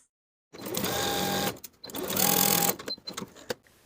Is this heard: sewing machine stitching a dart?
yes